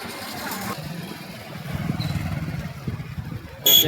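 A motorcycle being ridden through busy Hyderabad streets around Ramkoti and Nampally; a steady, close engine rumble mixed with road and traffic noise swells slightly midway, with a sharper burst near the end.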